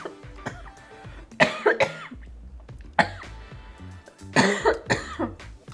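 A single person coughs and clears their throat several times in short bursts, close and fairly loud, with quiet pauses between fits.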